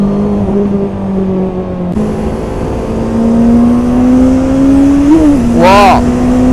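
A 2021 Honda CB650R inline-four engine pulling hard in third gear on a race track, a loud close droning whine that climbs steadily in pitch with a brief dip and wind rush, recorded from the rider.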